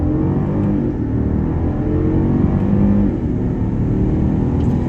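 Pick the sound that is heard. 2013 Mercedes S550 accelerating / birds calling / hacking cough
2013 Mercedes S550 accelerating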